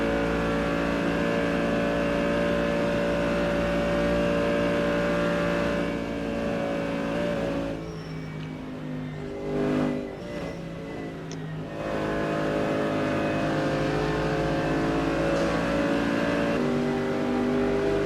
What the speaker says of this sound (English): Good overtake there by the GT3